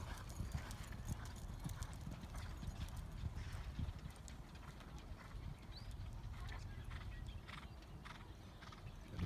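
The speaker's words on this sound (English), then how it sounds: "on the outside, a 2015 colt by Temple City out of Fridigette." Two horses trotting side by side, a 2015 gelding by Mineshaft on the inside and a 2015 colt by Temple City on the outside, their hooves beating a steady, continuous clip-clop close by over a loud rumbling background, with a brief whinny.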